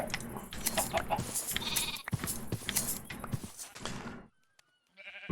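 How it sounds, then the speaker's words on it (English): Minecraft sheep bleating while being sheared, several game bleats mixed with busy clicking and crafting effects, dropping to near silence before a short burst of sound returns at the end. "Shearing the sheep."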